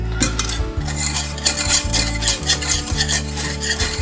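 A whisk beats a thick nacho cheese mixture in a pan over medium-low heat, producing rhythmic metallic scraping and clinking strokes, close and fairly loud, with a faint sizzle underneath.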